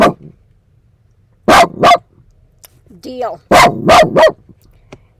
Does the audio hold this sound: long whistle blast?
no